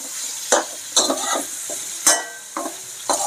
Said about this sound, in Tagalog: Pag malambot na tong kalabasa, pwede nang ihalo yung talbos ng sayote.